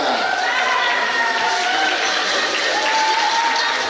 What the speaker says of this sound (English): your applause for Sebastian Stepanek